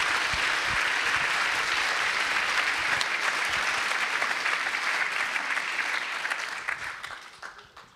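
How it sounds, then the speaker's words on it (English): Loud, sustained applause from an audience honoring Ashoka Fellows at a celebration event, steady throughout and tapering off near the end. "this is the perfect moment for a round of applause for all our Ashoka Fellows in the room"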